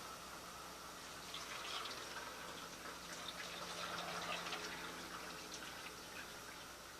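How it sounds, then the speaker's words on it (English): Quiet, steady flow of fresh plum juice pouring from a hose into a container, a soft gushing fill that swells slightly midway and continues. "I always pour the first part of the juice back in."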